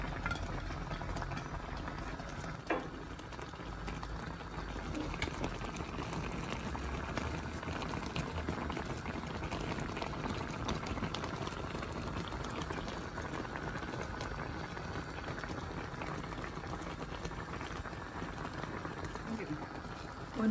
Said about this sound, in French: Après 2 minutes, ça bouille encore.